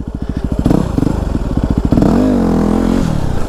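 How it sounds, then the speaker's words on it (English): A Yamaha WR250R dual-sport motorcycle revving hard during wheelie practice at an off-road riding park, loud and close, a fast chugging engine pulse that surges into a sustained high rev. "I guess wheelie practice when you can."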